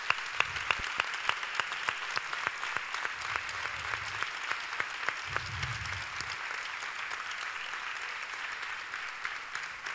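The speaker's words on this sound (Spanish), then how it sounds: "Un fuerte aplauso para esos donantes." A gala audience at a flamenco awards ceremony applauds donors with steady, moderately distant clapping that holds for about ten seconds, alongside faint low crowd murmur and no speech.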